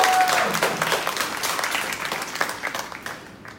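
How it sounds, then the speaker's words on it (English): Conference audience applauding a speaker, a full burst of clapping from a seated crowd indoors that gradually thins and fades out. "I think that deserves another round of applause."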